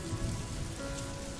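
Rain patters steadily on a surface, a soft, even wash of droplets with no voices, faint and close, continuous throughout.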